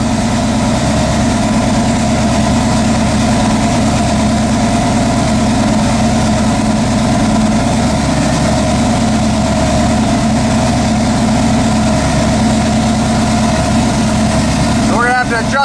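A second-generation Ram truck engine idles at roughly 900 RPM, a steady, loud, low rumble that holds unchanged throughout, with a brief higher sound at the very end.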